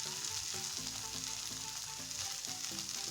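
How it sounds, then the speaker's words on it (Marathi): Pav buns toasting on a hot pan for spicy masala pav, a soft continuous sizzle with faint rhythmic tapping underneath, quiet and close, with no voices. "आता पलटी मारून घेऊया आपण मस्त आणि खालच्या साईडने हा पाव भाजून घेऊया."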